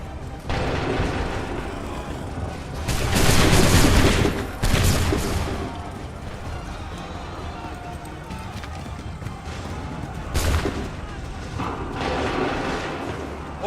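Musket volley in Assassin's Creed 3, bursts of massed gunfire crackling and booming around 3–5 seconds and again near 10.5 seconds over a constant battlefield rumble with shouting voices and hoof-like clatter.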